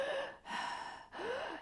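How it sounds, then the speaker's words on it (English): Noisy, constricted breathing: three audible breaths with raspy, narrowed airflow, separated by brief pauses, close and fairly loud with no talking. "if you find that you tend to be breathing in a constricted way"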